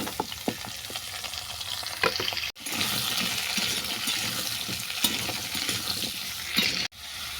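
Papaya, potato and green chillies are tipped into hot oil with a cumin seed and bay leaf tempering, then sizzle and fry steadily in a pan, with several stirring scrapes and clinks throughout.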